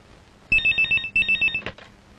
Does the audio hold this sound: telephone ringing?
yes